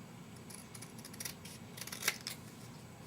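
Scissors snip through paper while shaping a small flag, a few quiet, scattered cuts with one sharper snip near the end over a low background hum.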